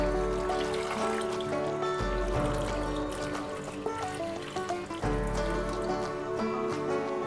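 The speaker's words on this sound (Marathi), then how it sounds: "आता ह्याच्यात आपण पाणी घालून घेऊया." Water is poured into a pressure cooker holding pieces of tender jackfruit, making a steady trickling splash close by that runs the whole time over a layer of background music.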